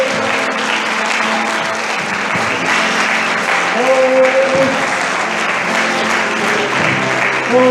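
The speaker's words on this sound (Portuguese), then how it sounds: "você pode aplaudir ao Senhor. Aplauda Ele" Loud congregational applause for the Lord in a church service, sustained clapping with voices and some musical tones mingled underneath.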